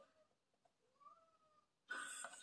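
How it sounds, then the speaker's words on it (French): A cat meows, the call starting faintly and rising into a loud, close, bright cry near the end, with no voices over it. "c'est le chat."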